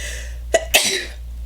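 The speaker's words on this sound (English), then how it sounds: "oh, I'm gonna sneeze again." A single person sneezing indoors, a short sharp burst followed by a breathy tail, close and fairly quiet against a steady low hum, with no talking.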